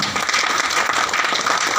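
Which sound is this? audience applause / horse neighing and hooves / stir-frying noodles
audience applause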